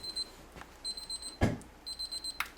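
Kitchen timer alarm at the end of a homebrew boil for a Citra English IPA, ringing in short repeated bursts of high electronic beeps with brief pauses and a single clunk in between.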